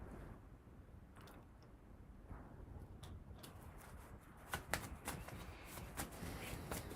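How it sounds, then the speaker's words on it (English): Tarot cards being shuffled by hand, a quiet, papery rustle that builds into a run of crisp flicks and taps toward the end, close up with no talking. "Shuffling my cards feels so weird today."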